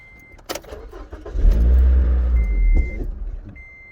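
A Scion tC coupe's engine cranks and starts after the key is turned, rising to a loud rumble before settling, with a chime beeping around it close by.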